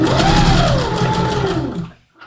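A sewing machine stitches a curved seam, its motor whirring loudly and steadily with a rising and falling hum, then slowing and stopping near the end before a brief faint sound.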